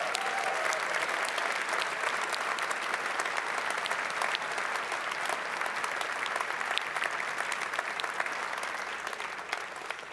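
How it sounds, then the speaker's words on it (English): Sustained audience applause after a gospel choir performance at a university anniversary ceremony, dense steady clapping from a large crowd that holds for the whole stretch and tapers slightly at the end. "So I think they do deserve one more round of applause."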